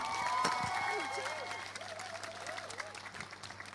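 Applause from a theatre audience after a student drama performance, an even spread of clapping heard from a little distance, with a voice speaking over it for much of the time.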